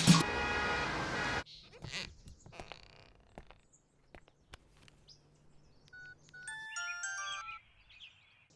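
A mobile phone rings in short, bright melodic bursts near the end, following a loud burst of other sound and a stretch of quieter background.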